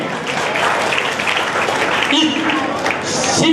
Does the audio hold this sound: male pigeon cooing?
no